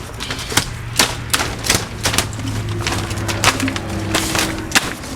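Greenhouse jumper air tubing is cut during a plastic cover replacement: a series of sharp, woody snaps and clicks at uneven intervals over a low steady hum, close and fairly loud, with no talking.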